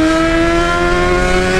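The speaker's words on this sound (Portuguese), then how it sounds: "O ronco dessa moto," Yamaha XJ6 motorcycle engine roaring at a steady idle-to-mid rev, loud and close, a constant droning tone with no talk.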